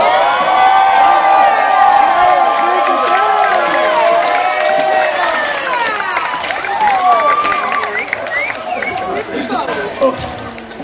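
At a New York Renaissance Faire show, a dense outdoor crowd cheers, shouts and chatters loudly and without a break, with scattered clapping inside the noise.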